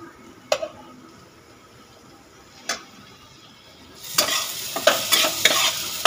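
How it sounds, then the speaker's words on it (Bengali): Semolina is stirred and fried in oil in a pan: a few sharp spoon scrapes over a low background, then a louder, busy sizzle with crackles and stirring knocks. "আর একটু ভাজা হবে এটা।"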